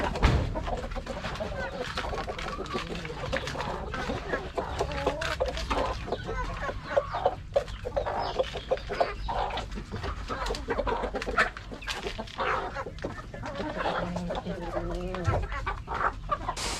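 Rhode Island chickens clucking at feeding time in their pen: a busy chorus of overlapping clucks and squawks from several birds nearby, with rustling and occasional louder calls throughout.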